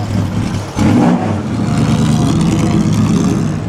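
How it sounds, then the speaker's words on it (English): Eight-cylinder Alfa Romeo racing car at the Monaco Historique, a loud, close, steady engine roar that swells briefly near the start, with no talking. "8-cylinder Alfa Romeo."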